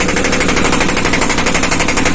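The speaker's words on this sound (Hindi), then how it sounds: "देखो भाई जैसे फट फट की आवाज आ रही है इसके अंदर" Bajaj Maxima auto rickshaw diesel engine with a faulty head gasket, idling close up with a rapid, evenly repeating phut-phut knock, loud and steady throughout with no voices.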